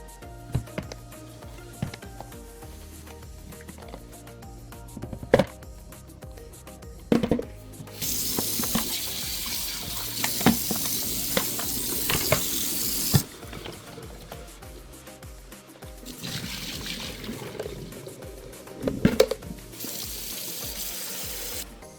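Intermittent rushing and gurgling of dirty water being sucked from upholstery by an extraction cleaner, with bursts of louder spraying and occasional clunks, no voices.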